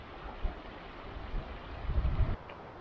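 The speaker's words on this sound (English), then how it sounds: "A green tunnel, the sound of roaring water." Water roaring along a creek through a green, wooded tunnel in the Superstition Mountains of Arizona's Tonto National Forest, running high after recent floods. The broad rush is steady and moderately near, with some low wind-like rumble and bumps.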